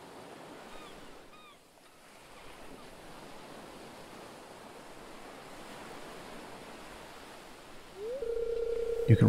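Steady ocean surf and breeze wash around a lighthouse overlooking mangroves in the Stardew Valley Expanded game, a soft continuous hiss that swells a little near the end, where a brief electronic tone cuts in.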